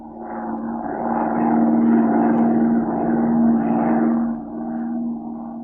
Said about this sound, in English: Z and Patricia Norwood took off in Z's plane and began to circle lazily over the city